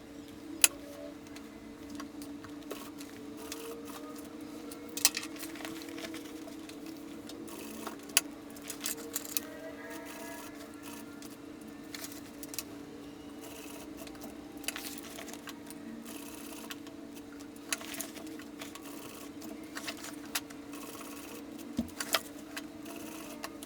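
A sewing machine stitching a reinforced rectangle twice over to attach a fabric tote bag handle. A low, steady motor hum runs throughout, with faint ticks and occasional clicks.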